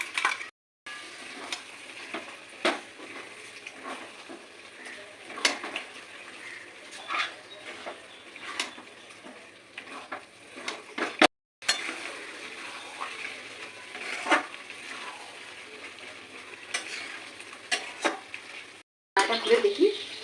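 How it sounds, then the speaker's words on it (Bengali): Green chilli spice paste fries in oil for palak chicken while a spoon scrapes and stirs it, producing a low steady sizzle with repeated stirring taps, heard close with brief pauses. "ভালো করে নেড়ে নিয়ে আবার এইভাবে আমি বেশ কিছুক্ষণ কষিয়ে নেবো"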